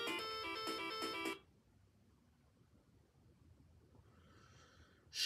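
A phone ringtone chirps in a bright repeating melodic pattern for about a second, then stops, and a faint tone returns near the end over quiet room hiss during play on a Sega Genesis Mini 2.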